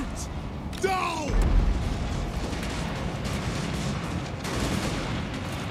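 Dwarf gunfire crackles through a large battle in the Warhammer Total War video game. Dense shots and booms fill the scene, with a brief whistling sweep early on, all mixed into continuous battlefield noise.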